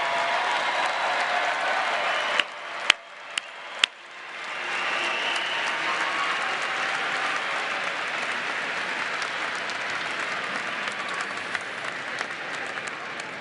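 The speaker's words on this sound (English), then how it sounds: "How about one more round of applause for our outstanding graduates?" Sustained applause from a large crowd honoring graduates at a university winter commencement, steady and dense with a few sharp claps standing out before the clapping swells again and carries on evenly.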